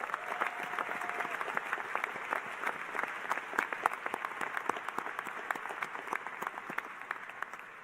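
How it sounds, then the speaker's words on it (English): A graduation audience gives a sustained round of applause, many hands clapping in a dense, even wash with crisp nearer claps, moderately distant. "Give yourselves a round of applause."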